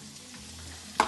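Onion and celery sweat in a soup pot with a brief, soft sizzle and stir, ending in a sharp clink of a utensil.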